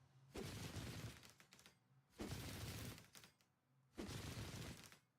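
A minigun in a video game fires in three bursts of a few seconds each, separated by short pauses. Each burst has a crackling, popcorn-like rattle, fairly near.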